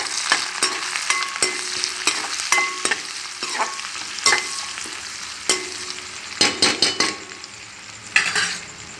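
Curry leaves dropped into hot oil in a pan for a tomato and egg dish crackle and sizzle steadily, with sharp pops and spoon scrapes punctuating the frying, close and fairly loud, no voices.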